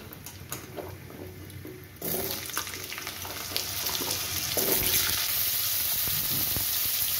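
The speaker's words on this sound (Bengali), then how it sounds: "আলুটা আমি একটুখানি নুন হলুদ দিয়ে ভেজে নেব" Potato pieces dropped into hot oil with fried tempering spices, with salt and turmeric, set off a loud sizzle that jumps up suddenly and keeps building into a steady, hissing fry.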